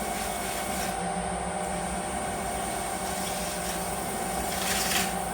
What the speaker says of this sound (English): So I rub that in, and then what we're going to do is we're going to rub it off.